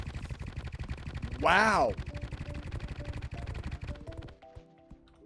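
A fully charged ink gun fires in the Terraria Thorium Mod, giving one loud rising-and-falling whoosh that lasts about half a second amid rapid clicking game sounds, with a voice speaking briefly afterward.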